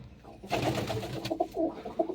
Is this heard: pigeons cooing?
yes